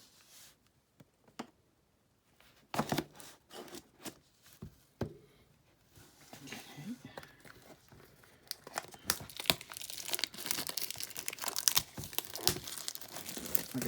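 Cardboard packaging of a Yu-Gi-Oh Legendary Decks box being opened, with sharp crinkling and tearing that starts sparse and grows into dense, continuous rustling close to the microphone.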